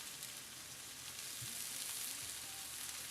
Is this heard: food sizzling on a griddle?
yes